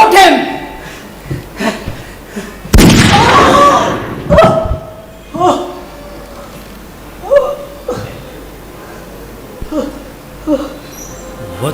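A single loud, sharp bang rings out in a stage play about the Kakori train action. Shouted, dramatic dialogue surrounds the bang, with pauses between the lines.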